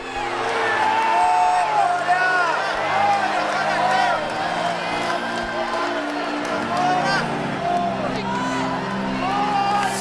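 A church congregation at a Gideões missionary gathering applauds and cheers loudly and continuously, whoops and shouts rising over sustained clapping, with voices calling out throughout.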